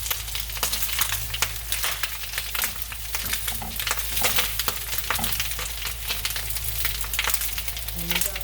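Corned beef hash with potatoes frying and browning in a pan, a loud, continuous sizzle with crackles and pops close up and no talk.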